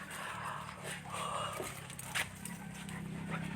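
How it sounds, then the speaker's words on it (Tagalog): A pet dog pants and whimpers close by in a home, with soft rhythmic breathing and faint high whines mixed with background household noise. "Meron pa kami isang aso dito, oh."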